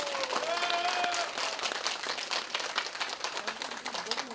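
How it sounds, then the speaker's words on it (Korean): Applause from an audience at a Korean gathering for Jeju 4.3 retrial acquittals, a dense steady patter of many hands clapping throughout, with faint crowd murmur mixed in. "박수 한번 쳐야 됩니다."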